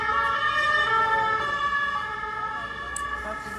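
Wailing emergency vehicle sirens pass along Rue de la Paix in Paris, sustained sweeping tones layered over traffic rumble, loud at first and fading slightly, with no speech.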